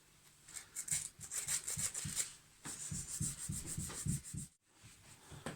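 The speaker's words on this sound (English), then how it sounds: "I'm just going to sand all of the edges off these pieces of bone" Small pieces of bone rubbed back and forth against sandpaper to smooth their edges, making soft, rhythmic scratchy strokes close by, with a brief pause near the end and no talking.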